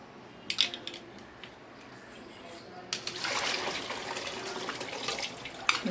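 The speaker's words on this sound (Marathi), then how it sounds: "आता हे सगळं आपल्याला गाळून घ्यायचं आहे" Pressure-cooked bamboo shoots strained in a kitchen: a faint trickle gives way to a steadier rush of water pouring off, with light clinks.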